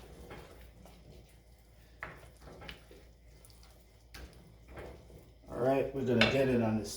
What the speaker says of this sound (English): Mix that right inside.